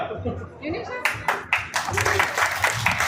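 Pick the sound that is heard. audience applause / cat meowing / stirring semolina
audience applause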